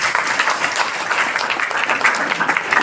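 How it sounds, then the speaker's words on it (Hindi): An audience claps loudly and continuously in a dense, steady wash of applause, with no talk over it. "जोरदार ताली मारिए"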